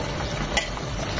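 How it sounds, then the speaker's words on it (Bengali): Magur fish frying in a pan, giving a steady, close, hissing sizzle throughout with one brief sharper crackle partway through. "ওই পাশটা এরকম 2 মিনিট ভেজে নেব।"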